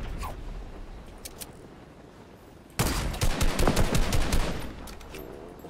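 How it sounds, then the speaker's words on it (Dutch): Weapons fire in the Fortnite video game, beginning with scattered single shots and then, about halfway through, a loud, close burst of rapid repeated blasts that fades into a few final shots. "Ja, blijf die RPG's vuren."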